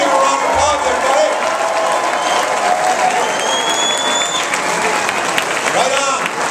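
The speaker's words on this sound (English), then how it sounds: "Let's give a round of applause," A crowd at a Ron Paul presidential campaign rally applauds and cheers loudly, with sustained clapping, whoops and whistles filling the space and voices mixed through the din.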